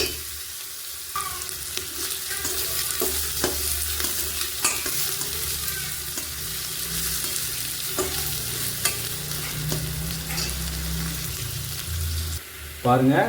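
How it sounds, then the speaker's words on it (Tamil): Chopped onions frying in hot oil until golden brown, a steady close sizzle broken by repeated scraping and stirring of a spoon against the pan, with a short spoken word partway through. "வெங்காயம் நல்லா பொன்னிறமாக மாறுற வரைக்கும் இதை நம்ம தயாரிக்கிட்டே இருக்கணுங்க நல்லா வறுக்கணுங்க"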